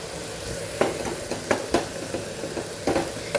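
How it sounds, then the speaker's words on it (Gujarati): Tanjariya greens being sautéed with spices in a pan for a Kathiyavadi sabzi, a soft steady sizzle punctuated by repeated sharp clinks and scrapes of a spoon stirring, close up, with no talking. "સરસ આપણે મસાલા સાથે ભાજીને સાતળી લેવાની છે"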